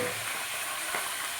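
Bottle gourd stir-fried in a pan of hot oil with cumin seeds, bay leaf and green chilli, making a continuous close sizzle with faint scraping from stirring, and no voices.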